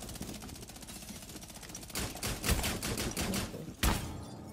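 Rapid automatic gunfire in Rainbow Six Siege, a steady stream of close, loud shots with a few heavier bursts standing out near the end.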